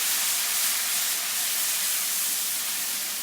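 Tomatoes hit a hot pan of onions and are mixed in, producing a loud, steady, close hiss of sizzling that holds evenly throughout.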